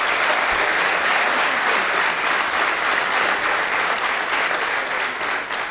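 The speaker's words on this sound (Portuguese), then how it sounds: "gostava que dessem uma salva de palmas ao Gonçalo" Applause from an audience at a corporate talk event, a dense, loud and sustained clapping from many hands that carries on evenly for several seconds.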